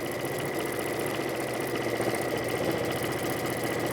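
A sewing machine runs at a steady, even rate while stitching applique, switching between straight and reverse stitching. The dense mechanical whir and rattle stays constant and close throughout, with no voices.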